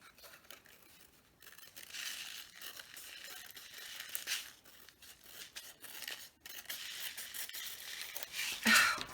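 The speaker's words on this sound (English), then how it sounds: "all you have to do is just tilt your scissors and cut around it." Quiet, repeated snipping and rustling of scissors cutting paper close by, in uneven strokes, with a sharper crinkle near the end.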